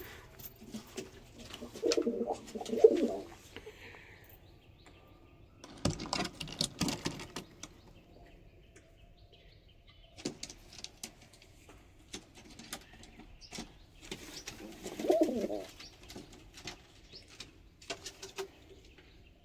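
Soft Teddy pigeon coos come in short bursts a few times, separated by quieter stretches with light rustling and flapping.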